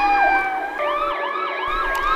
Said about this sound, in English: An ambulance raced all the way from town